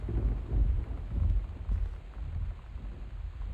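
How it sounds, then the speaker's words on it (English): Rolling thunder and steady rain in the game Gone Home: low, heavy rumbles surge and fade in waves over a continuous hiss of rainfall, with no voices present. "Oh, it's just thunder."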